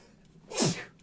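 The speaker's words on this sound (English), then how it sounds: "I'm gonna sneeze and I'm gonna mute myself." A single sneeze bursts out in the middle of a quiet moment, fairly close and loud, rising quickly and fading within about half a second, with no talk around it.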